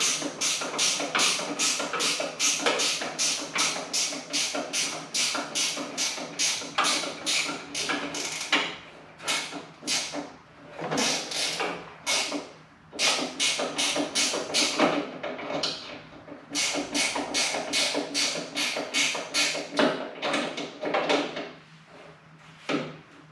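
A long bolt is turned out with a ratchet on a 1985 Harley-Davidson Sport Glide FXRT, making rapid, steady clicking bursts that pause briefly now and then, close up and moderately loud.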